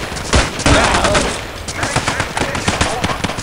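Rapid automatic gunfire in Battlefield 2, loud dense bursts of shots crackling one after another, close up, with a voice briefly under the shooting.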